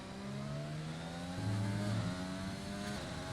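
A race car engine accelerates out of a corner in a racing video game, its tone climbing in smooth rising sweeps with a brief shift mid-way, loud and close, with no talking over it.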